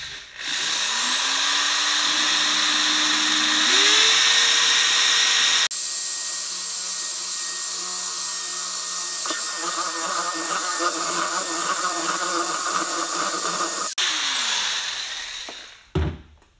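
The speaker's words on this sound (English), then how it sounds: "So let me go ahead and drill that" A power drill whines up to speed and runs continuously for several seconds, pitch shifting as it bites in, then winds down to a stop.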